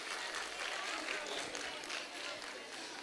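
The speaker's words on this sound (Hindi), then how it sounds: "एक बार इन कलाकारों के लिए, मोती शिवहरे के कलाकारों के लिए तालियों के साथ अभिनंदन" Faint, steady applause from an audience honouring performers at a ceremony, a dense wash of clapping heard at a distance with voices underneath.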